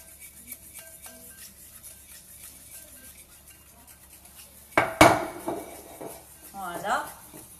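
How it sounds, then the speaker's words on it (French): Egg yolks and sugar are whisked in a bowl, mostly faint at first, then a sharp clank and a few louder scraping, clinking strokes near the end. "on mélange bien les œufs et le sucre ensemble"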